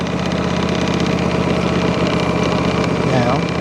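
A John Deere lawn tractor engine runs close by with its mower blades engaged, giving a steady, unbroken mechanical drone with a constant vibrating hum throughout.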